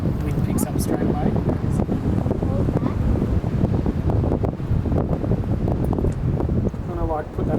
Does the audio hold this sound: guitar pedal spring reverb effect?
no